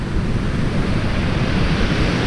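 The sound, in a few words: sea waves on Hythe Beach, Kent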